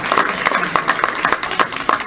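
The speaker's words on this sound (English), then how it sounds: "Big round of applause for David Hume." An audience at a CCIM Greater Los Angeles installation luncheon applauds David Hume, close, crisp individual claps in a loose, fairly regular rhythm over a softer background of clapping, with a voice speaking over it.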